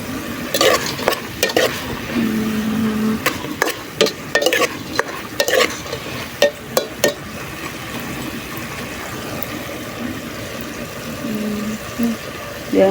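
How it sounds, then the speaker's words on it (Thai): Grasshoppers stirred and frying in a pan for a Thai home-cooked dish, with a steady sizzle and bubbling, repeated scraping strokes of a utensil against the pan, and occasional faint voices nearby. "เดือดฮะตอนนี้ก็ใกล้สิสุกเลย"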